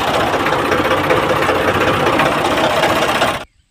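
A Ford 4000 tractor engine runs loud and close in a steady, even rumble, then cuts off sharply near the end, with no voices.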